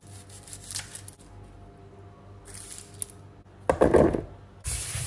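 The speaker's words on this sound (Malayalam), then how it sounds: "പിന്നെ ഉള്ളി ഒന്ന് കട്ട് ചെയ്തെടുക്കുന്നുണ്ട്" Onions being cut for biryani on a home kitchen counter, giving soft scraping and chopping noises with a couple of louder bursts near the end.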